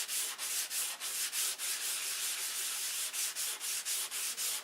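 Sandpaper rubbed in repeated rhythmic strokes over a painted model aircraft wing, a close, steady scratchy rasp with regular pulses and no talking.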